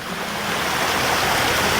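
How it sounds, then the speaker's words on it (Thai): Water flowing steadily in a waterfall garden at Doi Ang Khang, a broad continuous rushing wash that is fairly loud and even throughout, with no voices. "ก็จะเหมือนบรรยากาศ สวนน้ำตกให้เราได้ชมกันเย็น"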